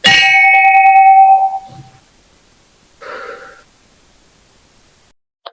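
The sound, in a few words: temple bell ringing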